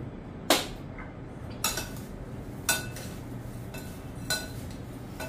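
A spoon clinks against a dish four times, spaced apart, while crushed papad is mixed with chaat masala. The taps sound near and crisp over a quiet background.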